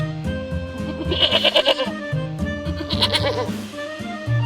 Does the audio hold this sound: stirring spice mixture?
no